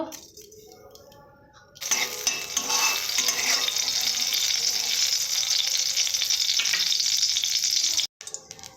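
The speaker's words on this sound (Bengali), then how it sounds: "টক বানানোর জন্য ফোড়ন দেব" Spices for a Bengali sour mango dish crackle and sizzle loudly as they hit hot oil, bursting into a steady, dense frying hiss after a quiet start, with faint stirring clinks and a brief cutoff near the end.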